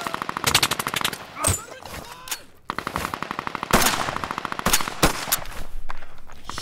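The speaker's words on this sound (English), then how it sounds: "when it comes to automatic gunfire, it gets really difficult" Automatic gunfire sound effect from an action scene mix: rapid bursts of machine-gun shots in rattling strings, loud and sharp, broken by brief gaps and sudden single cracks.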